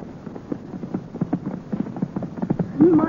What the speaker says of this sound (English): let's slow down to a gallop